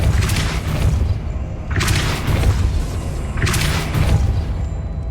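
Depulso spell cast repeatedly in Hogwarts Legacy on PS5, three loud bursts each with a bright whooshing blast and booming thud, evenly spaced over steady game background noise.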